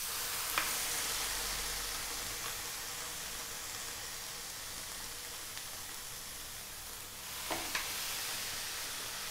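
Pork loin sizzling in a hot skillet, a steady, fairly quiet hiss of frying that runs throughout, with a couple of brief clinks or taps of utensils near the start and toward the end.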